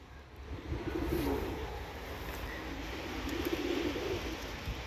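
Tumbler pigeons coo in soft, low rolling phrases, two faint bursts over a steady outdoor hiss, with no talk.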